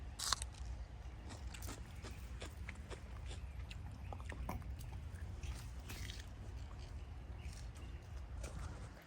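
Crisp crunching of garden snap peas being bitten and chewed, repeated close bites over a steady low outdoor rumble.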